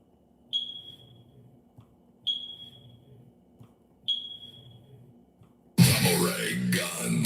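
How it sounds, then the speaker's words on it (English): A smoke detector gives three sharp, high electronic chirps evenly spaced about every 1.8 seconds in a quiet room, followed by a sudden burst of loud broadband noise at the end. "We're going to go with the smoke detector chirp."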